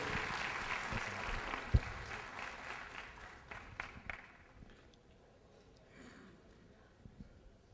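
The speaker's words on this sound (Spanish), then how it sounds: "Démosle un aplauso al Señor, un fuerte aplauso al Señor por la vida de este hombre" An audience at a finance talk applauds, a broad wash of clapping that fades away after a few seconds, leaving scattered claps and quiet room noise.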